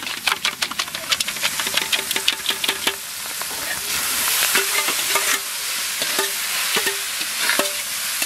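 A big carp fish head fries in mustard oil with bay leaf, whole cumin, ginger and green chillies, crackling under a run of sharp spatula scrapes and clinks that give way to a steady, close sizzle.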